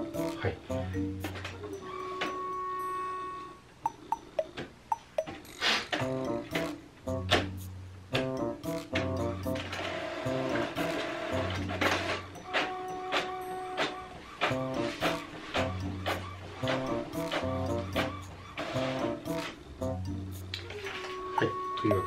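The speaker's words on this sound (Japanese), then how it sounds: "こちらのデータをちょっとプリントアウトしてみたいと思います" A junk-shop 2012-model inkjet printer running off a document, with repeated mechanical whirs, clicks and motor buzzes in an uneven rhythm, fairly close, while a person talks over parts of it.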